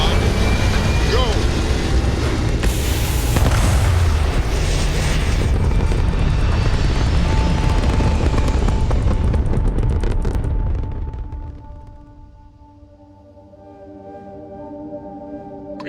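A spaceship lifts off in the Starfield video game: a loud, sustained roaring rumble with booming low end fills about ten seconds, then drops away, leaving quieter tonal hum beneath.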